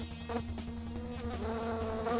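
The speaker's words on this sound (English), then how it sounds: "but by a swarm of angry bees" A steady, dense buzzing of a swarm of angry bees, continuous and close for the whole stretch.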